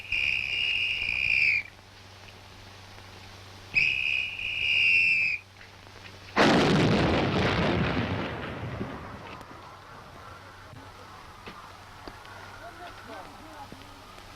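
A big artillery gun fires during a test at Aberdeen Proving Ground, one sudden loud blast with a long rumbling decay, preceded by two tonal beeping signals and surrounded by faint outdoor ambience.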